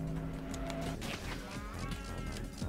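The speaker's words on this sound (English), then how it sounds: "Oh my god, cow!" A cow in the video game Pizza Tower lets out a drawn-out low moo that rises and wavers, with game music and effects playing underneath, fairly loud and up front.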